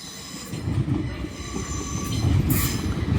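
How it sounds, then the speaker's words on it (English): An LNER Azuma passenger train from London King's Cross to Leeds rumbles into Doncaster station on the East Coast Main Line. The rolling wheel noise is loud and close, with a brief high squeal of brakes or wheels near the end. "arriving in now is a 1511 and a 1515 LNER Azuma service from London King's Cross to Leeds"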